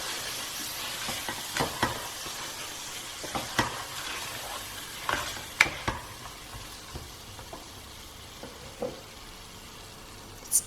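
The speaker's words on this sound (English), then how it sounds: "So we're going to mix this through nicely with all the spices." Soaked split peas and spices are stirred in a cooking pot, with soft, scattered scrapes and clicks over a low, steady background hiss. The sound is fairly faint and there is no talk.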